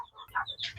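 Elba laying hens give a quick run of soft, short clucks in a brief, faint burst.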